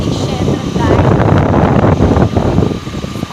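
Strong wind buffeting the microphone on the road to Ooty, a loud, continuous rushing roar that persists throughout, with a voice faintly underneath.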